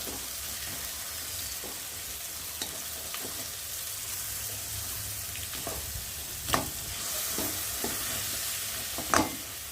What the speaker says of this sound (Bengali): মাথা ভাজাটা খুন্তি দিয়ে ভালো করে একটু ফাটি ফাটি দেবো